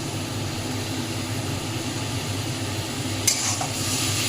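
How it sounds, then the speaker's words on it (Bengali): Fried onion and sugar stirred in a pan over high gas, a steady hiss of frying under a low burner rumble, with one sharp scrape of the utensil near the end; no voices. "গ্যাস বাড়িয়ে দিয়ে ভালো করে মেশাবো।"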